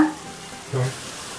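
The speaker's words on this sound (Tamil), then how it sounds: "நல்லா கோல்டன் கலரில் வர வரைக்கும் நல்லா மொதுன்னு ஃப்ரை பண்ணலாம்" Bonda batter deep frying in hot oil, a steady soft sizzle with a brief louder bubbling burst partway through, close by and with no talk.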